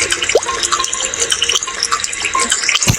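Water runs and splashes from a tap in a mobile video game, heard as a loud, close gushing stream with small plops and drips, mixed with brief game sound effects.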